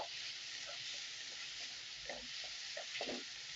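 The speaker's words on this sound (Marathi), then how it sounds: "कांदा आपल्याला छान इथं परतून घ्यायचा आहे, व्यवस्थित लालसर होईपर्यंत।" Chopped onion sautéing in a pan while being stirred until reddish, heard as a steady broad sizzle with soft scraping stir strokes, some clustered near the end, close and alone.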